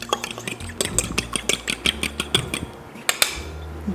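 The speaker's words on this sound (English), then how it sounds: "I'm just gonna break that up a little bit with a fork." A fork beats an egg in a bowl, giving a quick series of light clinking taps and scrapes against the bowl, close and fairly quiet.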